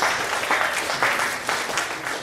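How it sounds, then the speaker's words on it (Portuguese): Steady applause from a church congregation during an evening testimony service, a dense wash of clapping filling the room with slight swells in intensity, no speech over it. "aplauda o nome do Senhor Jesus."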